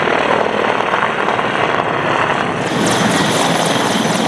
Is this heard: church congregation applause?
no